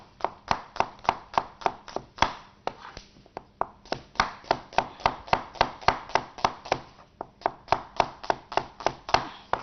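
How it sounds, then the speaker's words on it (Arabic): A knife chops an onion into slices on a cutting board with a brisk, steady run of sharp, close knocks, several dozen strokes in quick rhythm with brief pauses, with no talking. "قطعت البصل بتاعي خلاص اهو خلص"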